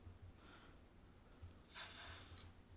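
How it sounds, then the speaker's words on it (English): A short, faint hiss of an aerosol can of chain lube sprayed onto a Suzuki Marauder VZ800 motorcycle chain, one brief burst lasting about half a second, with a softer puff just before it. "let's take the chain lube, just spray it."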